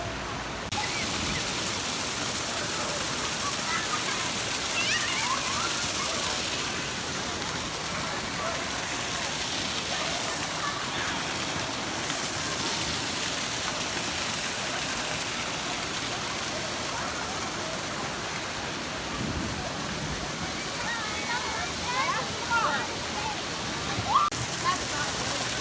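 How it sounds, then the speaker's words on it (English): Water slides at the Splash Country water park in Aurora, Illinois give off a steady rushing, splashing wash of water, broad and continuous, with crowd and voices faintly mixed in throughout. "There are two water slides over there."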